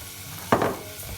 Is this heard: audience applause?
no